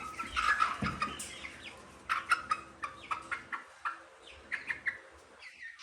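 Benny, an Orpington rooster, gives a run of close clucks and short calls in an uneven rhythm, some louder than others, with faint barn noise between them.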